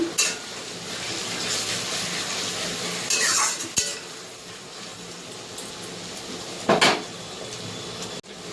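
Onions fry for a biryani in a pan, a soft continuous sizzle running throughout, broken by a few sharp stirring scrapes and clinks of a utensil against the pot.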